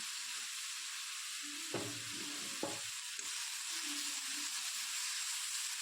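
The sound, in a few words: onions sautéing in a pan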